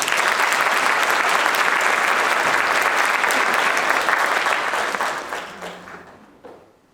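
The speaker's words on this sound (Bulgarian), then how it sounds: "Моля за вашите аплодисменти за изключителния Димитър Георгиев!" An audience at an awards show for Creator of the Year 2025 breaks into loud, dense applause, which holds steady for several seconds and then fades away.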